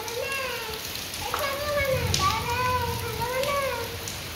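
Heavy rain pours in a steady, even hiss around a rented house, with a high wavering voice or meow-like calls rising over it now and then.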